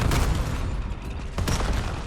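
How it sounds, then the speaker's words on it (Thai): In Call of Duty: Black Ops 7 multiplayer, a dense barrage of explosions and gunfire rumbles loudly and continuously, with sharper blasts near the start and again around the middle. "โอ้ระเบิดเยอะอะไรขนาดนั้นวะน่ะ"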